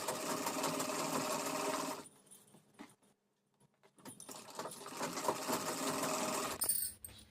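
Sewing machine stitching elastic into a halter neck maxi dress, running in steady bursts with a pause of near silence in the middle before the stitching resumes, close and fairly loud.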